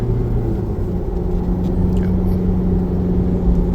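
A car engine labours up a mountain road in low gear near Phu Toei National Park, Suphan Buri, a steady close rumble and whir with no breaks throughout.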